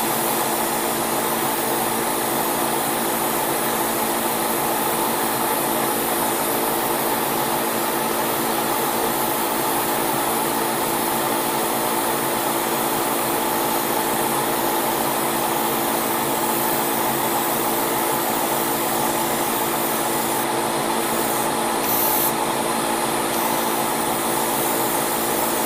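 An airbrush or spray gun gives a steady, loud hiss for the whole stretch as a 50-50 paint mixture is sprayed onto a 1/700 scale model ship, with no talking.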